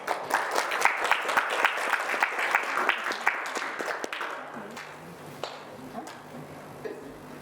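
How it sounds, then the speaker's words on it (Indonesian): A church congregation at a prayer service in Lampung claps, with sharp, distinct handclaps for several seconds that then thin out and fade into quieter room sound. "Tepuk tangan dong."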